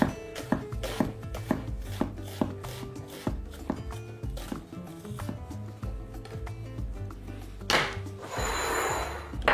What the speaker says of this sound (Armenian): Կարմիր սոխը կտրատում ենք կիսալուսնաձև,